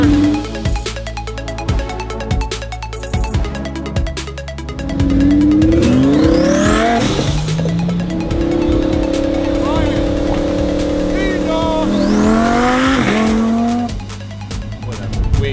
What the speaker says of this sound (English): The turbo noises.